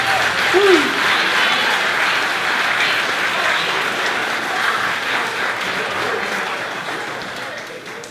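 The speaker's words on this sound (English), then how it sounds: "Huge round of applause." Wedding reception guests give a loud, sustained round of applause, dense, even clapping that holds steady from start to finish without talk.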